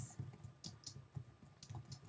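Quiet, close typing on a PC keyboard while entering text in Microsoft Word: a quick, irregular run of soft key clicks and taps with no talk over it.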